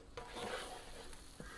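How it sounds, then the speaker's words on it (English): Egg fries in a pan for prawn fried rice and is stirred, giving a soft steady sizzle with light scraping and a faint knock of the utensil against the pan. "now you can see I've been stirring while it's cooking"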